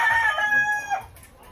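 A large rooster crows once up close, a loud drawn-out call that breaks off after about a second, with no voices around it.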